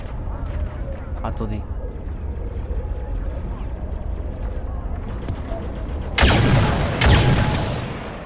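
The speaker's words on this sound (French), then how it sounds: "Oh putain, c'est des gros canons." Big cannons fire in the video game Star Wars Battlefront II, two heavy booming blasts near the end that ring out over a rumbling battle background, with someone speaking briefly before them.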